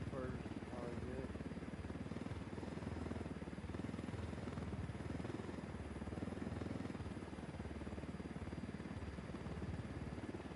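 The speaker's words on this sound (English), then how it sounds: "Got a Unidad helicopter inbound." A helicopter in the Force Recon video game drones steadily, with constant rotor and engine rumble filling the background at an even level while voices talk over it.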